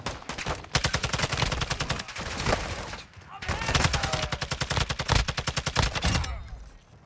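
Rapid automatic gunfire in Call of Duty DMZ comes in long, dense bursts of sharp cracks with brief pauses between them, loud and close, ending in a short quiet tail.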